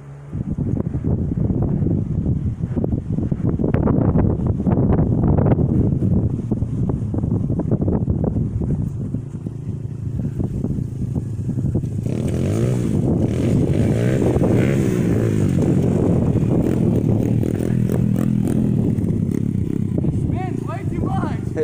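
A Chinese 125cc pit bike engine revving as it rides past outdoors, a loud buzzing drone that rises and falls with wind buffeting the microphone and a voice talking over it.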